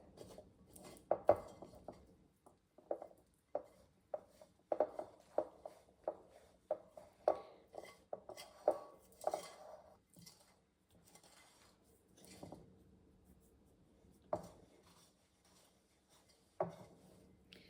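Bread dough for a Dutch oven artisan loaf being worked with flour in a bowl on a rainy day: close, irregular scraping and knocking, soft thuds and rubbing in uneven bursts, with quieter stretches between.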